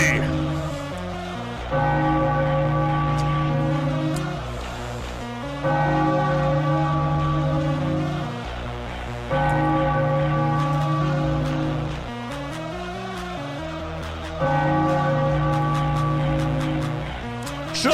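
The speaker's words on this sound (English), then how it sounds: "Ring that bell, baby." Repeated bell tolling at a Detroit Tigers spring training ballpark after a home run, clear ringing peals in about four spaced bursts with sustained ringing tones between strikes.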